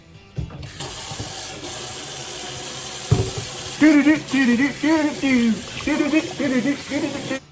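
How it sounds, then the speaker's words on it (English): Water from a tap runs steadily into a sink during handwashing before cooking, a continuous hiss that goes on while a person speaks over it. "Remember, wash the damn hands."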